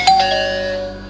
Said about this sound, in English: I'm gonna go ahead and push this doorbell button and see what happens